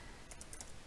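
Quick clicks on a computer keyboard, a short burst of soft, close keystrokes in an uneven rhythm over a quiet indoor background.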